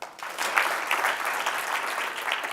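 Many audience members clap in unison during a team-building session, a continuous thick wash of hand claps that holds steady and fairly loud from start to finish.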